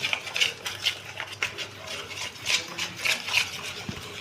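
A spoon scrapes and clinks against a bowl while batter for kadhi pakora curry is stirred and mixed, with repeated light metallic taps over a soft wet churning, close and steady.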